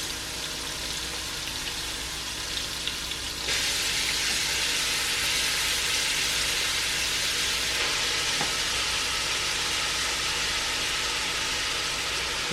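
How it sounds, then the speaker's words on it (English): Turnip greens hit a hot pan alongside cubed pork steak in a Southern kitchen, setting off a steady, loud sizzle and frying hiss that swells and holds without pause. "And we're going to begin to add our turnips."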